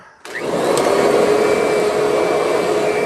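A Kirby Sentria upright vacuum cleaner switches on abruptly and runs with a steady, loud motor whine and airy rush, continuing without pause.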